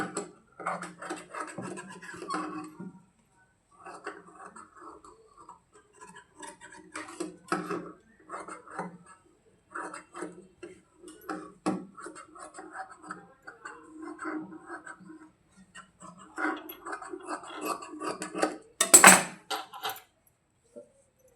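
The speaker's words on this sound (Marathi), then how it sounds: "हा जो काही अस्तर जोडणार ते एक्स्ट्राचं कापड आहे तो आपण कट करून टाकायचं आहे" Scissors cut away the extra lining fabric from a blouse piece, a run of small crisp snips and rustling cloth, fairly close, with one sharp louder clatter near the end; no talking.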